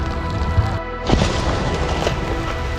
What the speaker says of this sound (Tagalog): Kasi oh, ulan talaga.